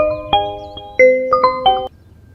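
A mobile phone ringtone plays an incoming-call melody of bright chiming tones, several short notes in quick succession, fairly loud and close, before stopping abruptly.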